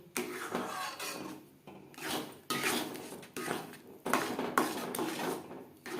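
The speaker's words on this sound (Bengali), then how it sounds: "এইভাবে অনবরত নাড়াচাড়া করে ড্রাই করে নেব" A sweet pitha mixture flavoured with cardamom is stirred nonstop in a kadai to dry it out. Rhythmic scraping strokes of a spatula against the pan come in bursts with brief pauses, close and moderately loud.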